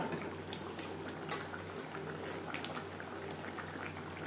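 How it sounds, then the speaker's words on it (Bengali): Mutton liver cooking down with spices in a pan, giving a continuous close bubbling and sizzling with small pops and crackles at moderate volume, no voices over it. "মেটে বেশ ভালো করে কষিয়ে নেব"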